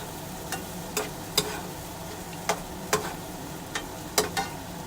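Chopped tomato going into a hot pan of frying food, a soft continuous sizzle with a handful of sharp clinks and stirring taps spaced through it, close and moderately loud, no voices.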